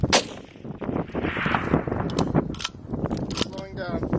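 Rifle shots ring out during a ram hunt outdoors, several sharp cracks spread through the stretch, mixed with nearby excited talking.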